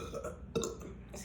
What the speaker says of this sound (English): now I'm trying to burp and I can't.